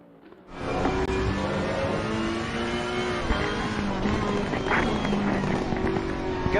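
A race car on a hot lap of the Hungaroring in a PS4 racing game, its engine snapping in and screaming up and down through the gears, loud and close throughout.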